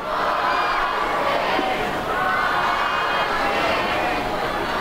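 Big crowd at a York Revolution versus Somerset Patriots baseball game, a loud, continuous roar of cheering and chatter that swells and dips slightly throughout.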